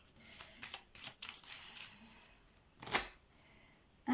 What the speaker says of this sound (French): Je vais mettre juste 3 cartes, 3 petites cartes du lot normand